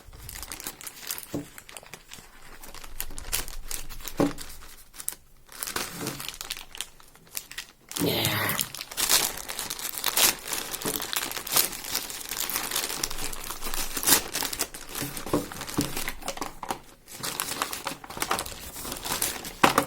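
Parcel packaging from China crinkles and rustles up close as it is torn open, irregular crackling bursts and tearing sounds continuing throughout, with brief quieter pauses.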